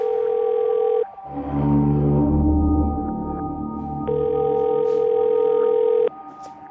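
An unanswered phone call rings out with a repeating electronic ringback tone, steady and clear, broken by a stretch of low humming drone and background noise before the tone returns.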